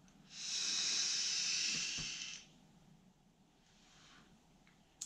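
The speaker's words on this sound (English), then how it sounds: "So now I'm just vaping on it and giving you my thoughts." A close, steady vaping hiss from a Uwell Crown 4 tank with plug-and-play coils and three big airflow slots, lasting about two seconds, then fading to a soft exhale.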